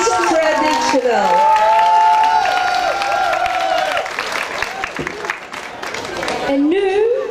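Audience at the Miss Asian 2015 pageant in Nieuw-Vennep applauding and cheering for the Miss Traditional contestant, loud crowd clapping and whoops under a presenter's voice and background music.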